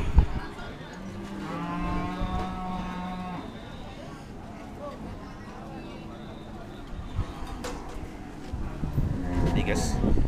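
Simmental heifers moo in a cattle pen, several drawn-out calls rising and falling at moderate distance, mixed with a person talking and general farmyard noise.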